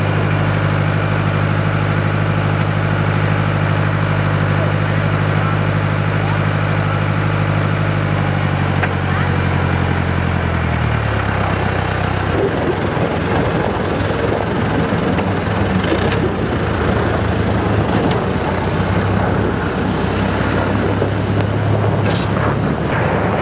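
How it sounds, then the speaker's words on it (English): Tractor engine running in deep winter cold around -30, a steady low idling drone that shifts partway through into a rougher, noisier rumble with wind, continuous and without talk. "we're gonna haul it out with the tractor"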